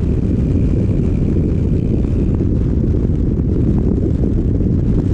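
A Rusi Adventure X 150i scooter engine labors as it struggles to gain revs while riding, a loud, constant droning roar buried under heavy wind rush on the microphone, with no speech.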